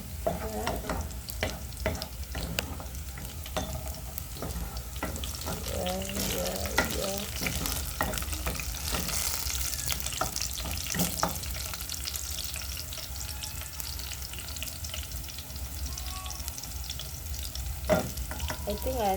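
Plantain slices frying in hot oil in a pan, a steady sizzle with repeated scraping and stirring sounds throughout.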